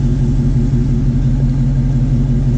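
A 2016 Ram Sport truck's exhaust rumbles at idle, giving a loud, steady, deep drone with little change over a couple of seconds, close to the microphone and with no talking.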